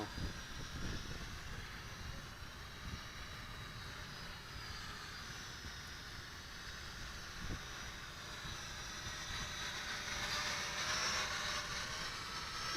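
A JJRC H9D quadcopter drone hovering outdoors in a breeze, a thin whining buzz of small motors at moderate distance over low wind rumble, rising slightly toward the end with no speech.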